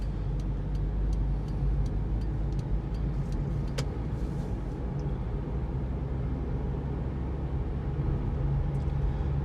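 Automatic car driving smoothly along a road, heard as a steady, even low rumble of engine and road noise with faint light ticking near the start and no voices.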